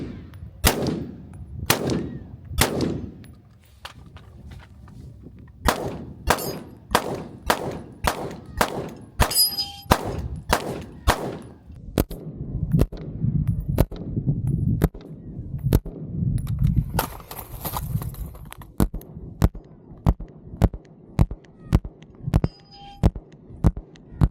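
Rapid gunfire in a tactical shooting drill, five shots from a long gun followed by five from a pistol after a quick transition. Loud, sharp cracks come in a steady rhythm close by, with metallic clanks between them and no talk.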